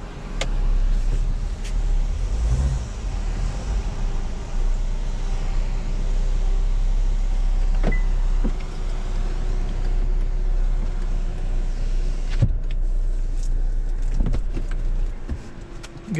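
A car is driven slowly and parked between two trucks, a low steady engine hum running throughout with a few sharp clicks and knocks from inside the vehicle.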